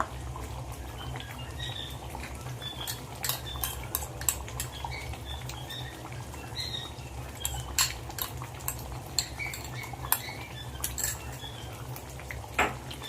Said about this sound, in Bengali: এবার মাংসের মধ্যে আমি কাজু আর পেঁয়াজ বাটাটা ভালো করে মিশিয়ে নেব